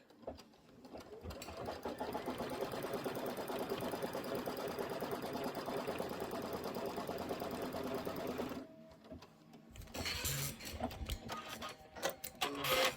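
A sewing machine runs continuously while stitching a tack-down on a quilt block, whirring steadily and close for several seconds before stopping, followed by softer handling clatter.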